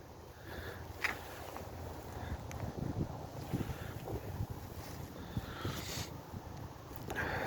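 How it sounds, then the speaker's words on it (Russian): An ISEKI TU175 tractor's three-cylinder diesel engine runs steadily outdoors in the cold, a low, even rumble partly masked by gusting wind noise on the microphone. "Двигатель в отличном состоянии, работает ровно."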